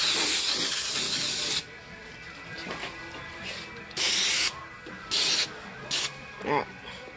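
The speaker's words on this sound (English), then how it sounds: "spray the inside of your cake pan with some spray so that your cheesecake won't stick" Several short hissing bursts of cooking spray into a cake pan, a long one first and then shorter quick blasts, close and fairly loud over faint background noise.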